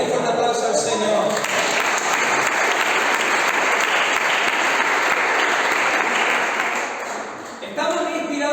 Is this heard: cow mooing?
no